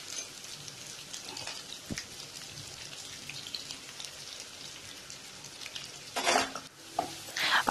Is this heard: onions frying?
yes